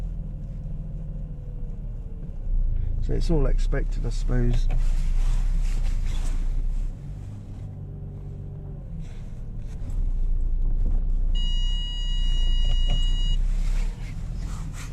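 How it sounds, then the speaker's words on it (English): A car turns around at a Hungarian farmhouse beside a building site where lorries have been bringing in fencing. The engine hums and the tyres roll steadily close by, with people talking over the car throughout. "I'll turn the car around."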